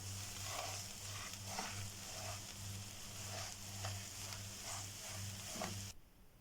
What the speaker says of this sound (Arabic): بقلب اللحمة مع البصلة لحد ما اللحمة لونها يتغير معانا.